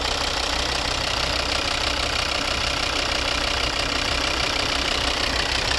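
The 2.4-litre five-cylinder D5 diesel engine of a 2012 Volvo V70 AWD idles close by, a steady knocking rumble with no change in pace throughout.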